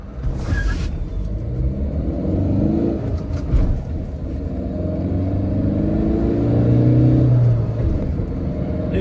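A Tata Nexon in sports mode accelerates hard from a standstill, with a steady engine rumble and rising road noise heard from inside the cabin.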